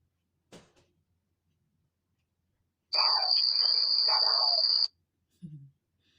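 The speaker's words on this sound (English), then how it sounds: "Funny spring jump, funny sound effect." A short boingy spring-like sound effect with a wobbling tone, lasting about two seconds, framed by small faint clicks before and after.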